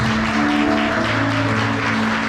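Church congregation applauding during a French-language service, a dense, continuous roar of clapping over a sustained tonal hum, loud and unbroken.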